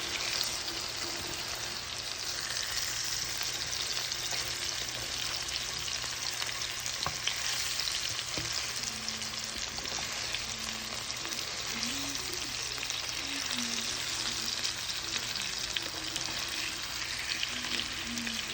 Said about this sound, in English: I'm just going to start moving them around so all sides of the fishes can get cooked and browned